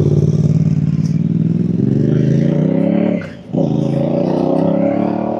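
A ZNEN Franco Amax electric scooter accelerates in second gear with a steady rising motor whine, dips briefly partway through, then keeps climbing in pitch; close and fairly loud.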